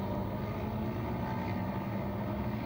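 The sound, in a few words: racing motorcycle exhaust note passing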